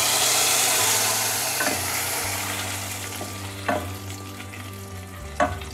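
Fried tadka for chinta chiguru (tamarind leaf) dal sizzles steadily as it is stirred into the dal, a broad hiss that fades slightly, broken by a few sharp spoon clinks near the end, with no talking.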